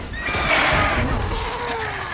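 A horse in The Witcher 3: Wild Hunt whinnies loudly and close, one long descending neigh that lasts about two seconds over a dense game soundscape.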